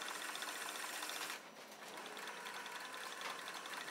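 A Cowboy 3200 sewing machine winding a bobbin, a steady whirring motor hum with a brief dip partway through before it resumes, close and alone without talking.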